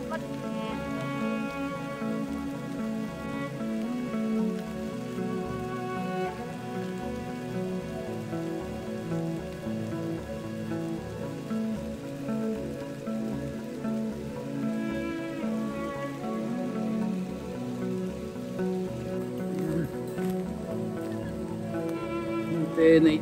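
Steady rain patters on surfaces during a mountain hike on Mt Batulao in Balayan, Batangas, a dense continuous hiss lasting throughout, with faint voices now and then beneath it.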